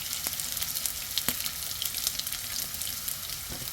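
Chopped garlic, onion and torn dried chili frying in oil in a pan, a steady close sizzle with small pops and occasional stirring sounds, no talk.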